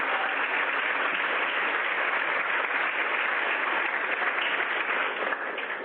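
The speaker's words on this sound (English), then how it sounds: "Let's give him a big round of applause." Audience clapping at a national nonpoint source training workshop, dense sustained applause from many hands filling the room evenly, fairly distant, tapering slightly at the end.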